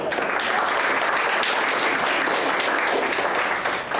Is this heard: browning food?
no